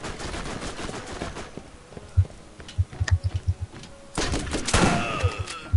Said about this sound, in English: My shotgun is just murdering them.